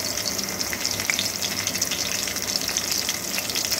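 Chopped garlic sizzles in hot oil in the cleared centre of a pan for a chicken dish, a steady dense crackling hiss that stays loud and even throughout with no voices.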